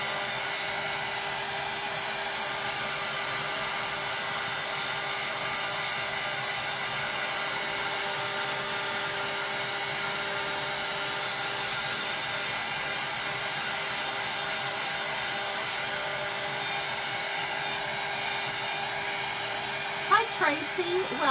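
Hair dryer drying paint on a handmade Santa craft face during a Christmas in July crafting session, a steady loud blowing whir running continuously throughout with a faint clatter near the end.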